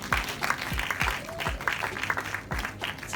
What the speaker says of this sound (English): Please, a round of applause for all our nominees.